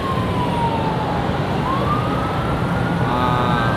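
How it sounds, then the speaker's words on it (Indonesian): An ambulance siren wails through Malaysian traffic with slow rising and falling tones that carry over a constant, loud road rumble. "Aduh, suara ambulan tapi gak datang-datang ambulan."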